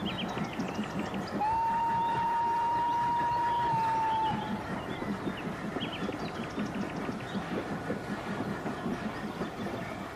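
A long steady whistle sounds over a dense, rumbling rhythmic chugging that continues throughout, with the clatter of a passing model railway steam train close by.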